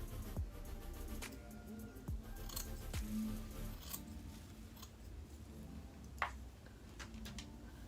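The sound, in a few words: scissors cutting hair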